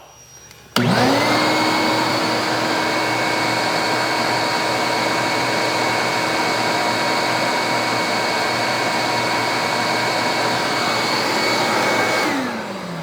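A Ridgid 6.5 shop vac running without a hose switches on abruptly and holds a loud, steady whine and rush close by, then spins down at the end.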